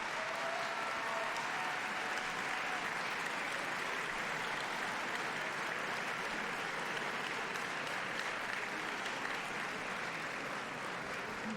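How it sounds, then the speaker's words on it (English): Sustained applause from a crowd at a university hall of fame induction ceremony, steady and dense clapping filling the whole stretch without pause. "can you give them a round of applause?"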